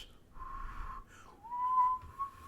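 A voice imitates a woman's eerie whistle, a thin wavering tone that rises, dips, then holds level for a couple of seconds, faint and close.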